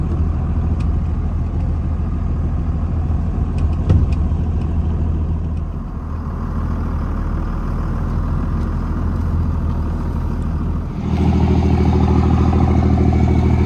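A flatbed truck rolls along with a steady, loud mid-low engine drone close by, which swells sharply near the end as the engine works harder; no one speaks.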